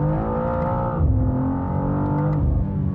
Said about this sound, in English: If you lean into this from lower RPMs, nothing really happens, and then a second later the boost builds